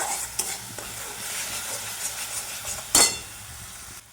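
Spice paste fries in oil while being stirred for a pointed gourd and egg curry, a soft continuous sizzle broken by utensil scrapes and a sharper clink near the end.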